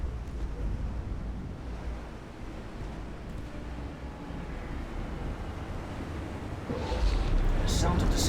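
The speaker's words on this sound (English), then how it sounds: "The sound of the sinking ship, however, is terrifying." A warship going down in the naval game Ultimate Admiral Dreadnoughts, a continuous rushing, roaring wash of water that swells louder near the end, with a few faint higher clanks.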